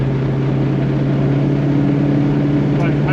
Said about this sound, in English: inside the cabin you get a little bit of engine noise, a little bit of exhaust drone